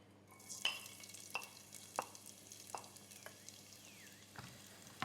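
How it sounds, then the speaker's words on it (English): Seasoning peppers sautéing in olive oil in a pan, a faint steady sizzle broken by a few sharp utensil taps and stirring scrapes, fairly quiet with no voices. "We're going to saute some onions and some seasoning peppers."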